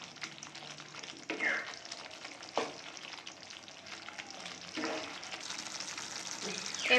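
Fried brinjal sizzles in masala in a pan, a steady, low frying hiss with occasional stirring clatter, fairly faint and continuous.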